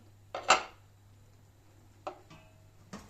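A dish set down as a weight over brined grape leaves makes a few short, close ceramic clinks and knocks separated by quiet pauses.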